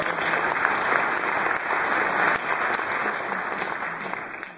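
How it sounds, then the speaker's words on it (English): Sustained applause from an audience at a choir concert featuring the Opus Honor Choir, steady dense clapping filling the space from start to finish without talk. "yes, another round of applause"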